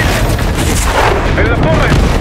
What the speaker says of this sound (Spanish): ¡Disparando, misil!